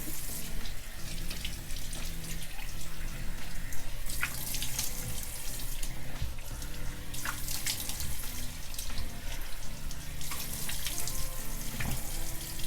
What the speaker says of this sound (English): Let me get some water on my face so I can wig up a little bit.